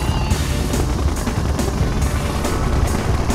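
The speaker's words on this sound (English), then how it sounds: "Airborne artillery. Siege chopper checking in." The Siege Chopper helicopter from the video game Red Alert 2: Yuri's Revenge makes a loud, continuous rotor thrum, with regular blade pulses beating over a dense, steady engine roar.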